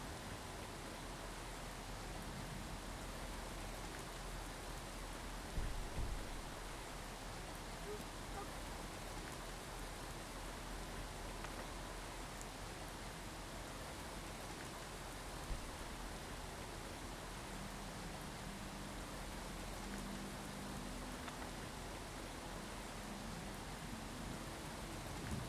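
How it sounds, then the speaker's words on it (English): Steady, heavy rain in Skyrim hisses evenly throughout, a dense wash of noise with no breaks, with a couple of faint thumps and a soft low tone partway through. "The rain is quite loud and distracting."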